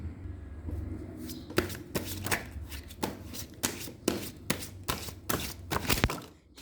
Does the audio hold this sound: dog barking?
no